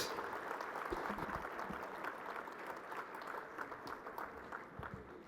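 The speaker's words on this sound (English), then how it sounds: "let's have a round of claps for these distinguished dignitaries on the stage" At the India Energy Week 2025 closing ceremony, an audience gives a round of applause for dignitaries on stage, a distant, soft wash of clapping that fades slightly toward the end.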